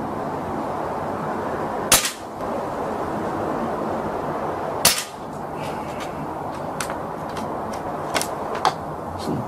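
Two sharp, loud shots from a Kalibrgun Cricket air rifle, a few seconds apart, each a crisp crack over steady outdoor background noise, followed by several fainter clicks and knocks.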